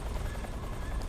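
Steady low rotor thrum of a helicopter in Metal Gear Solid 3, a continuous droning wash with faint rhythmic chop, moderately close and unbroken for the whole moment.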